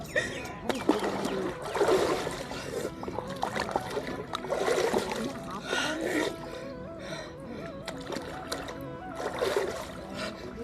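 Water splashing and sloshing as bathers take a dip in the Ganges at Devprayag, with people talking over the repeated splashes throughout.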